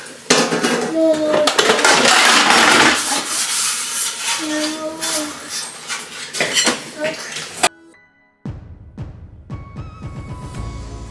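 Hand-washing the day's dishes in a home kitchen: pots, pans and cutlery clatter and clink continuously up close, then after a short pause come a few sharper knocks and rinsing clatters.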